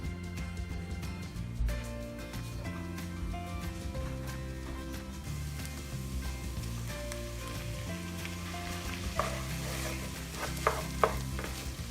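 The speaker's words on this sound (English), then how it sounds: "Now while everything is cooking in the pan" Sausage and diced red roasted peppers cooking together in a single pan, a continuous sizzle with stirring scrapes and a few sharper clinks near the end, no voices.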